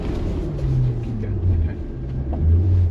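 An Ineos Grenadier off-road vehicle driving on a farm estate course, its engine giving a low steady rumble with slight rises in pitch as the throttle is held, while people talk over it close by.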